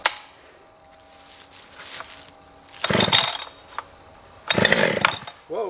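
Husqvarna 572 XP chainsaw being started for the first time on choke, with a few pull-cord attempts and short loud bursts as the engine catches and briefly fires.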